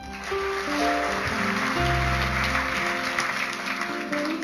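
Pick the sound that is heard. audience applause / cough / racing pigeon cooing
audience applause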